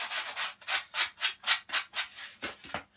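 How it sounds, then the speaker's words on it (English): Sandpaper rubs back and forth over lightweight polystyrene coving in about a dozen steady, close strokes, each a soft hissing scrape, with no voices. "And then what I do is a"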